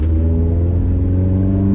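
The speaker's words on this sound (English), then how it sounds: "The exhaust it sounds so good because you can hear the exhaust well" A VW Scirocco MK2 with an R1 engine conversion and Yamaha carburettors runs loud and close, its exhaust droning and rising slightly in a steady rev with no voices.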